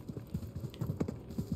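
Camel plodding across sand dunes in Assassin's Creed Mirage, soft rhythmic muffled footfalls in quick succession, close and fairly quiet with no talk.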